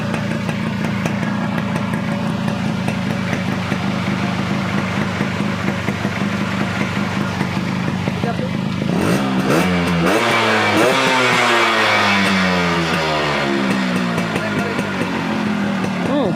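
A Yamaha RX 100 motorcycle engine idles steadily up close, then revs up and down several times in the second half, loud and continuous throughout.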